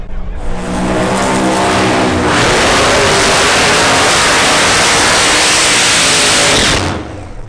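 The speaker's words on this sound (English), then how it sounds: "Good and strong burnout for both cars." Two Pro Modified drag cars do burnouts at Santa Pod Raceway, their engines screaming at full revs with a roaring, tyre-hissing blast that builds quickly, holds extremely loud for several seconds, then cuts off.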